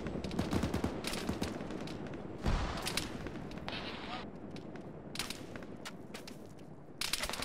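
Gunfire in an Arma military video game, with rapid and scattered shots throughout, a heavier thump partway through that fits a frag grenade explosion, and voices talking under the fire.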